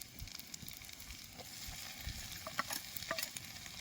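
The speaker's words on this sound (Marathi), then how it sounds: "आता आपण हे वाटाणे तळणार आहे" Peas frying in a pan give soft, quiet sizzling and crackling, with scattered small pops and light scraping, fairly faint and with no voices.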